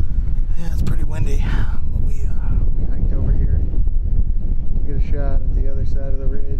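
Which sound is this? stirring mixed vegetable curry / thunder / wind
wind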